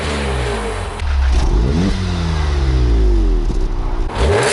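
A car engine, either a Golf R or an E46 M3, revs repeatedly while parked, limited to 4,000 RPM, climbing in pitch and dropping back, loud and close, with no talking.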